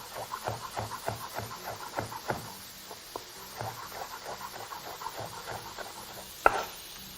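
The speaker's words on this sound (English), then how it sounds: "proceeding to do the same to the very end, getting a more even chop to your peppers" Knife chopping peppers on a board for a Mediterranean frittata, a quick steady run of crisp taps that pauses briefly and resumes, close and clear with no talk.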